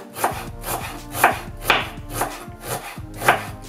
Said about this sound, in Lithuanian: Svogūnus supjaustum smulkiai.